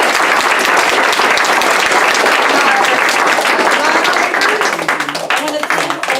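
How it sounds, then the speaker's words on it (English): Audience applause at a district attorney candidate forum, a dense, loud wash of many hands clapping that holds steady for several seconds and thins toward the end, with a voice briefly audible under it. "let's give a round of applause"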